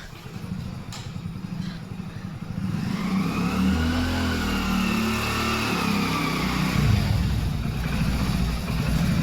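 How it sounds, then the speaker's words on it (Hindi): A motorcycle rolls in through a gate at a home in Delhi, its mid-pitched engine revving and rumbling close by for several seconds, steady and fairly loud with no talk over it. "ये देखो बाइक कर रहे हैं अंदर।"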